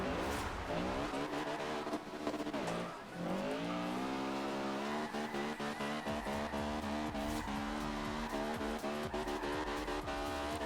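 Honda Civic Type R with a 4-cylinder turbo, tuned for drifting in Forza Horizon 2, revs hard with continuous tire squeal and shifting engine pitch, loud and close with no talk.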